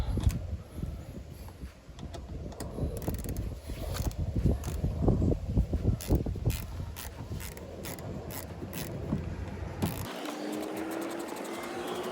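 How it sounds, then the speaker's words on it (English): A 90-tooth 1/4-inch ratchet clicks in quick repeated bursts as it tightens two screws on Rally Armor mud flaps fitted to a 2018-or-later Subaru Crosstrek, heard close up and steady above the background noise. "I'm going to use the 90 1/4" ratchet to tighten the 2 screws since the wheel's installed."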